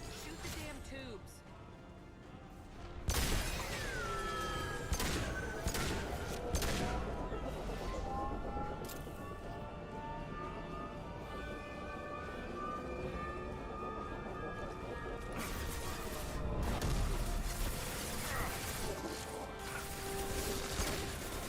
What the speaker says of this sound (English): Shoot the damn tubes.